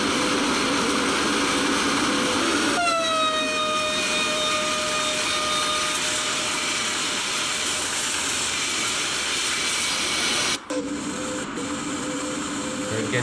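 An electric MRCE ES 64 U2 freight locomotive in Train Sim World runs steadily near Hagen Freight Yard, a constant broad hiss and rumble with a sustained electric whine entering partway through and a brief dropout later.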